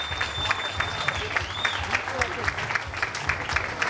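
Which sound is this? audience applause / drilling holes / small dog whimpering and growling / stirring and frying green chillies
audience applause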